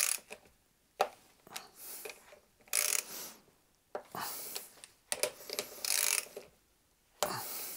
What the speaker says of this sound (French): tu prends une douille de 12, et tu dévisses tes petits paliers